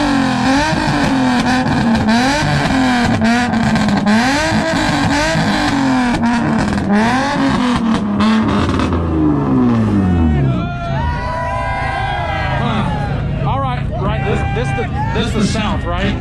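Truck engine at a two-step competition in Rockingham, North Carolina, loud and close, revving up and down in rising and falling sweeps, then a burst of sharper high revs, with a crowd and voices underneath.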